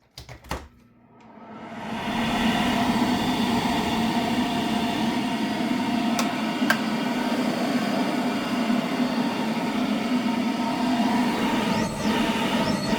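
RadonAway RN104 radon fan starting up from silence after a few clicks, ramping into a loud, steady broadband whoosh and hum that runs continuously with a few brief ticks.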